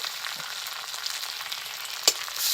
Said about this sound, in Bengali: টমেটোটাকে দিয়েও কিছুক্ষণ একটু ভেজে নিতে হবে